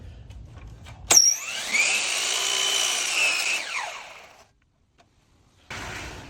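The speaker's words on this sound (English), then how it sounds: "I let the saw reach full RPM and then I drop it down slowly" A miter saw spins up to full speed and bites slowly through wooden door casing to make a miter cut. A loud, sustained whine rises sharply and holds for about three seconds, then cuts off into silence before a brief restart.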